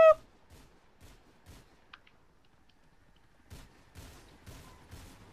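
Sporadic gunshots in GTA IV, a few sharp cracks spaced apart, some faint and distant, fairly quiet and heard alone with no talking.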